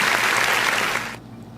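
An audience applauds to welcome a guest, a dense, loud burst of clapping that cuts off abruptly after about a second.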